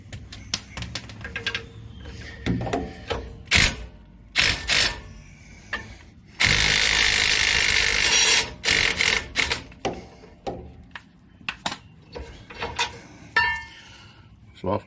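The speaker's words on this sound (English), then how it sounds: "Use my handy dandy little DEWALT." A DeWalt power tool works on brake parts from a 2017 RAM 1500 rear brake job in short bursts, with one longer continuous run. Clanks and clinks of loose metal parts fall between the bursts.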